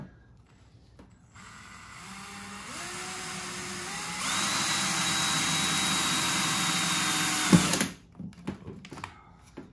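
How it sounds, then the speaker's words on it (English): A power drill re-bores holes in the hood hinge mounting of a 70-year-old farm truck under restoration, running as a steady whine for several seconds before a sharp bite and stop, followed by scattered shop clatter. "We have to re-drill some of these because it doesn't line up with the new hood hinge."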